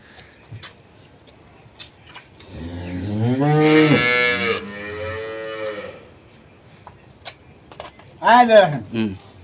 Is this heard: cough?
no